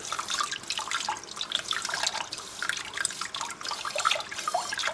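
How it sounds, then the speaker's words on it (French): A knife blade is rinsed under running tap water after sharpening, giving a steady splashing and trickling stream close by, with no talk. "Je vais juste laver la lame un petit peu."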